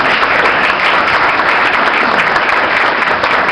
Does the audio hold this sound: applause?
yes